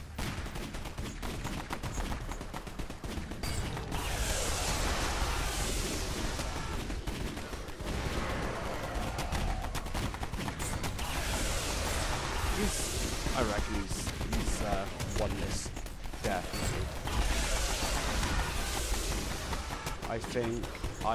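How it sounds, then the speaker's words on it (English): Continuous booms and rapid crackling blasts pile up in a dense, chaotic barrage in a Half-Life boss battle, with a voice talking over the din throughout. "There's just so much explosions going on."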